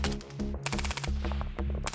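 Ukrainian soldiers fire at an Orlan 10 surveillance drone overhead, a dense run of rapid gunshot bursts cracking in quick succession with ringing echoes, loud and continuous with no voices.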